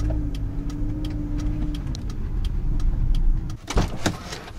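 A car being driven and parked in a concealed corner, its engine running steadily with low rumbling and road noise, then a brief louder burst near the end as it comes to a stop.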